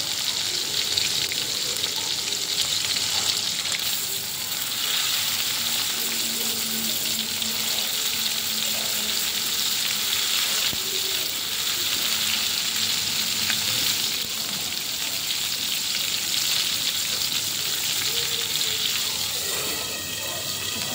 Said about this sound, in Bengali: একটু আস্তে আস্তে নাড়াতে হবে, না তো পটলের ভিতর দিয়ে পুরগুলো বেরিয়ে আসতে পারে।